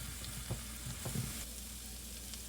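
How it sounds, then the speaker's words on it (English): Onions, garlic and thyme sautéing in oil and butter in a pan, a steady sizzle broken by a couple of quick stirring scrapes and light taps, close and unaccompanied by speech. "we're just going to cook these out until they're translucent"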